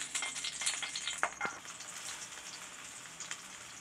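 Adai batter frying in oil in a pan, a steady close sizzle with crackling pops that holds throughout, a couple of sharper spits near the start.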